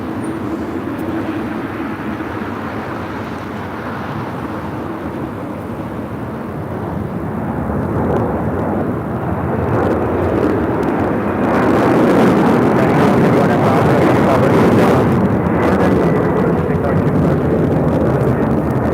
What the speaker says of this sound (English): This is the Tom Airlines 2479 taking off to Lima on a 767-300ER